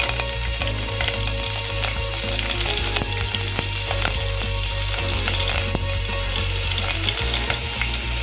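Mustard seeds, cumin and green chilli frying in hot oil for a Kannada drumstick curry, a loud, steady sizzle with dense crackling pops and occasional stirring clinks, close up and with no talking.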